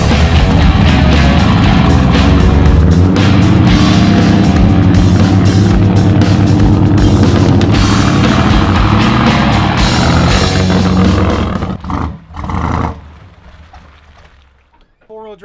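Pickup truck in four-wheel-drive low pushing slowly through a mudhole on private property, its engine roaring loud and steady with splashing churn before the noise drops away near the end, while people talk over it.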